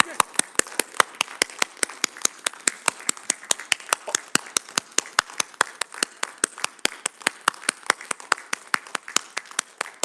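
Rhythmic, evenly spaced claps ring out steadily from a church congregation during a Sunday service, sharp and crisp over a soft background hum, continuing without pause.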